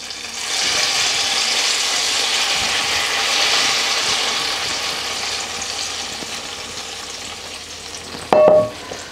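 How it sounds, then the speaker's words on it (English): Hot tadka is poured into a pot of haleem and sizzles loudly and continuously up close, slowly easing off, before a short metallic clatter near the end. "I'm just going to add the tadka straight in like that"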